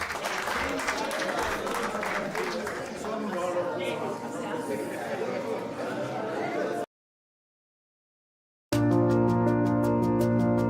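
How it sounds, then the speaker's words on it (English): Sustained applause from an audience at an evening lecture held at the Durban Country Club, dense clapping mixed with some chatter, cutting to silence before other sound resumes. "Shall we clap hands for ourselves, please? Clap hands for ourselves."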